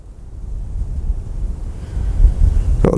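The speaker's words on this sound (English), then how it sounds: "Wind's dying down." Wind blowing outdoors, buffeting the microphone with low gusty rumbles that swell and ease, ending in a brief rustle.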